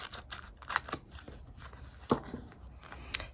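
Scissors trimming excess washi tape off cardstock, giving a few quiet separate snips with soft paper rustling between them, close and alone.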